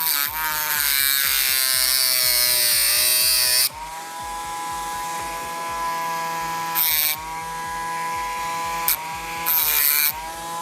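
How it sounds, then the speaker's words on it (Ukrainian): Worcraft CEMG-S20Li cordless rotary engraver cutting a small metal bolt, a loud steady high-pitched whine with a grinding rasp that dips in pitch and drops in level partway, with brief louder bursts as the cutter bites. "Цей болтик нам ще потрібен, тому якось акуратно намагаємося це різати."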